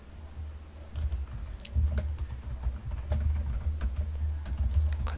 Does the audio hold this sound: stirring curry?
no